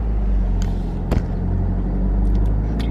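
A manual car's engine hums at a steady, low idle as a learner driver eases off the clutch and gives it a little gas. The rumble stays close and even throughout, with a few faint clicks and knocks over it.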